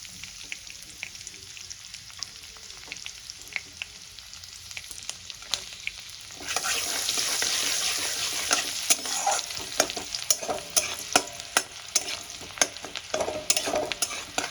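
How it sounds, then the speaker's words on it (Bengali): Chopped garlic sizzles in melted butter in a pan for pav bhaji, a steady crackling fry that grows louder partway through, with scattered sharp pops and occasional stirring clicks close by. "রসুন কুচিগুলো আমি একটু লাল লাল করে ভেজে নেব।"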